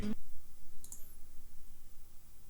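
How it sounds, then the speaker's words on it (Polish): Mouse clicks on 'no' answers in the Akinator guessing game, one sharp click near the start with faint clicks after it over a quiet background. "Cały czas klikasz nie, żeby zobaczyć co się stanie."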